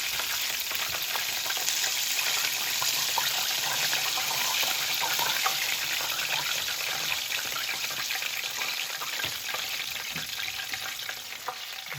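Southern chicken fried chicken frying in a pan of hot grease, a constant bright sizzle and crackle with scattered pops, steady and close throughout.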